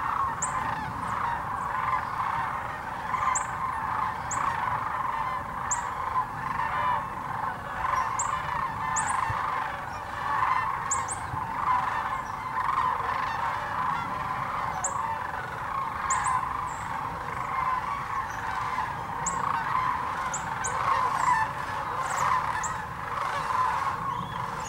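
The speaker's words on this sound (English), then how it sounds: "I'm going to leave the original audio so you can hear those loud birds." A large flock of sandhill cranes gathered in East Tennessee fills the air with a constant, dense chorus of calls, steady and loud throughout with occasional higher rattling notes standing out above the mass.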